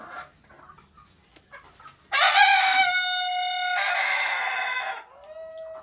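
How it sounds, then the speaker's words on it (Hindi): A Kadaknath hen and local chickens on a poultry farm: a rooster gives one loud, drawn-out crow lasting several seconds, with quieter clucking and farmyard sounds before and after. "ये देखिए, ये मेरा कड़कनाथ मुर्गी, ये इसके साथ और एक, ये देखिए यहाँ पे चार कड़कनाथ मुर्गियाँ हैं"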